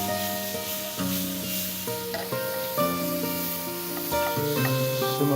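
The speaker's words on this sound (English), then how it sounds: "I will take a slicer and put this prawn in the pan." Prawns sizzle steadily in a hot frying pan, a continuous hiss running beneath loud tonal music for the whole stretch.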